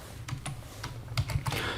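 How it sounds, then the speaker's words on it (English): Fingers tap out letters on a computer keyboard to enter C++, a run of close, crisp key clicks in an uneven rhythm, ending with a firmer press of the enter key, with no voices. "So just write C++ here and press enter."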